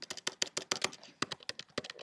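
Rapid, irregular keystrokes on a computer keyboard, close and crisp, with a brief pause midway before the clicking resumes.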